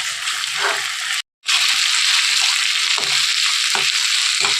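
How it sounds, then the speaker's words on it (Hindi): Ginger-garlic paste fries in a pan with a loud, continuous sizzle and a few soft stirring scrapes, broken by a brief moment of silence. "थोड़ा इसको अच्छी तरह से मिक्स करके फ्राई कर लीजिए, ताकि इसका कच्चापन चला जाए।"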